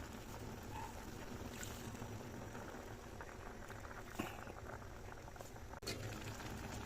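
Tilapia and pechay simmering in thick coconut milk in a cooking pot, giving a steady low bubbling and hiss that runs throughout, with a couple of faint clicks and no talking.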